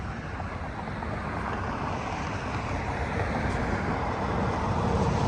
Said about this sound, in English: Sorry for the road noise, but it's right on the side of the street.